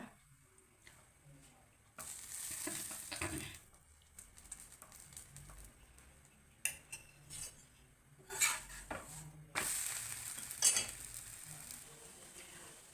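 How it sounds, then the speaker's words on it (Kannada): Paratha with cheese cooking in butter on a pan: a soft sizzle with bursts of scraping and clinking of a spatula on metal, close and fairly quiet, with no talk. "ನಾನು ಇದಕ್ಕೆ ಬೆಣ್ಣೆ ಹಾಕ್ತಾಯಿದ್ದೀನಿ, ಎಣ್ಣೆ ಹಾಕ್ತಾಯಿಲ್ಲ"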